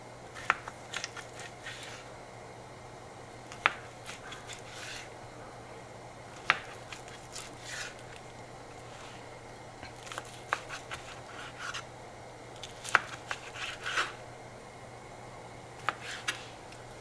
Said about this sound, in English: I think I want to cut them a little smaller